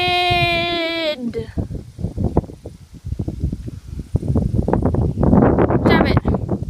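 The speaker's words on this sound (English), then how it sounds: "Wind! Sorry." Outdoor wind buffeting a microphone, producing a loud, gusty low rumble that surges and fades while a person talks through it.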